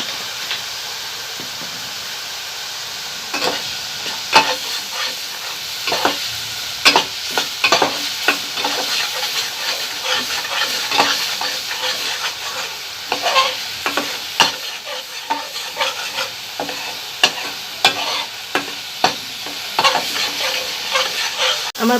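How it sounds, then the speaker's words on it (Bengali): Ground kharkol leaves stirred and fried in a pan, a steady close sizzle broken by repeated scraping clicks of a spoon against the pan throughout. "আর 1 মিনিট নাড়াচাড়া দিয়ে আমি নামিয়ে নেব।"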